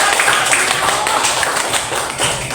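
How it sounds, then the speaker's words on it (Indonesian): Students in a fifth-grade primary school classroom applaud a classmate during a science lesson, a dense patter of clapping that holds steady for a couple of seconds. "Tepuk tangan buat temannya"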